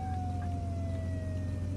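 Emergency vehicle siren in the video game Flashing Lights, a slowly falling wail sounding steadily over a low rumbling engine drone, fairly loud and continuous.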